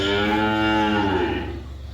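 A ten-month-old Holstein Friesian heifer calf on a dairy farm gives one long, loud, close moo that drawls on for about two seconds before tapering off.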